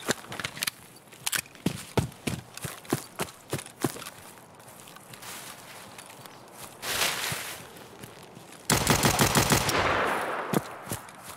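Pistol shots in the video game Escape from Tarkov, a woods setting, sharp single cracks spaced irregularly, then a dense cluster of rapid shots near the end.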